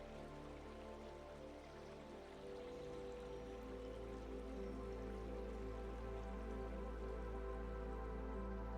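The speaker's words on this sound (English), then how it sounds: "somewhere nearby you can hear the gentle sound of flowing water" Gentle flowing water murmurs steadily with soft droplet-like patter throughout, a continuous faint wash of sound with no voices, set as a calm nearby stream in a lush garden scene.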